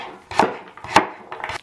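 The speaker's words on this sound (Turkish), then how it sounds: "Aynı şekilde havuçlarımızı da küçük küçük doğrayıp içine ekliyoruz." Knife chopping carrots into small pieces on a board for a clear consommé soup, three or four close, crisp knocks in quick succession.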